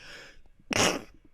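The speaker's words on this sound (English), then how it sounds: "that was a sneeze" A single sharp sneeze bursts out close to the microphone after a brief quiet breath, loud and short, with faint breathing around it and no talk.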